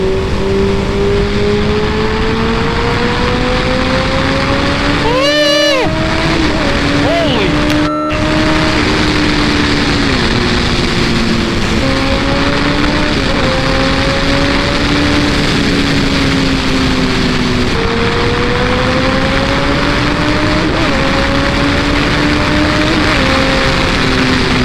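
A 2014 Kawasaki Ninja ZX-14R motorcycle engine howls loudly as it accelerates hard through the gears, its pitch climbing steadily, dipping at each shift and rising again, heard up close with rushing wind throughout.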